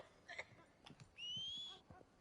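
A horse approaching in the open-world western game Red Dead Redemption II: a few soft hoof thuds and snorts, with a rising high whinny-like tone in the middle, quiet and fairly close.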